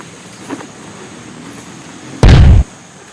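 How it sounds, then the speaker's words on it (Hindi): Grenade explosion in a student war film shoot at a school film festival, one sudden loud blast after a short quiet stretch, close and brief with a hard cutoff. "ग्रेनेड."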